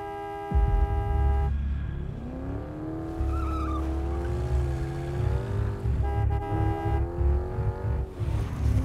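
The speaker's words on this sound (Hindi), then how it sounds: "हॉर्न बजा।" Car horn honking in busy road traffic, sounding as repeated loud toots over a steady engine rumble with tire noise, close and continuous throughout.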